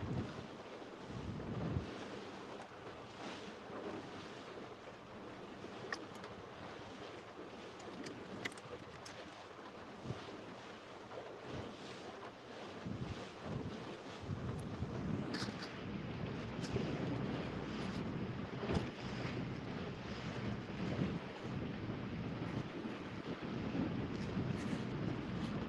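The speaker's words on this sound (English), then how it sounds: "Is that wind pretty bad?" Wind blowing over the James River during a morning fishing trip, a steady rough buffeting across the microphone with gusts and faint water and boat noise throughout.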